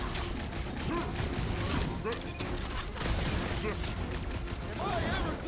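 Rapid bursts of gunfire from the video game Guardians of the Galaxy crackle through a busy mix of mechanical clanks and effects, with voices talking over the action.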